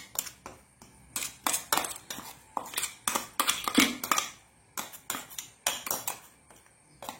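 A metal spoon mixes batter for a Mangalore-style breakfast in a pot, giving a long series of sharp, rhythmic clinks and scrapes against the vessel, loud and close with no talk.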